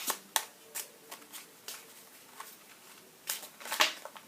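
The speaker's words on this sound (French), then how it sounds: "on va tous les deux mélanger nos paquets de cartes" Playing cards being shuffled by hand during a magic trick, soft riffling and flicking bursts at an irregular rhythm, close and fairly quiet with no talk.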